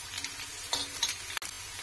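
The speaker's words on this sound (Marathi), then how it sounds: "कांदा आपल्याला लालसर असा भाजून घ्यायचा" Onion fries in oil in a pan until reddish, with a soft, steady sizzle and a few faint scraping stirs, quiet and close.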